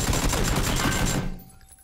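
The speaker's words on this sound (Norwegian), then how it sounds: "Det skuddet traff ved siden." A rapid burst of video game gunfire rattles loudly for over a second, then cuts off abruptly into quiet.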